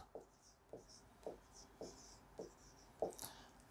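Handwriting during a mathematics lesson on geometric series produces six short, faint scratchy strokes at a fairly regular pace, close and alone without talk.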